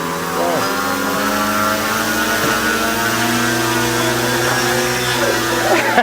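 A small plane's propeller engine drones steadily and loudly in flight, a continuous harmonic hum with slight pitch shifts throughout.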